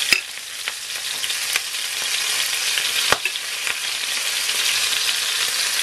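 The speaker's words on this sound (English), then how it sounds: "I'm going to quickly go into my hot oil with my prawn" Prawns for Jamaican pepper shrimp frying in very hot oil, a steady bright crackling sizzle close up, punctuated by a few sharper pops and spatters, with no talking over it.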